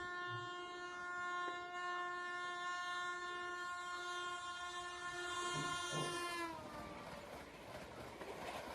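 Tejas Express train running from Lucknow to New Delhi sounds a long sustained multi-tone horn for about six seconds, then cuts off into the rushing roar of the passing train.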